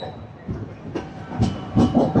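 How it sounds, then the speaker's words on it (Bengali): An express train rolls along the rails with rhythmic clickety-clack thuds that grow louder and quicker, over a constant low rumble. "ট্রেন আবারও রওনা দিল তার পরবর্তী গন্তব্য স্টেশন ভদ্রকের উদ্দেশ্যে"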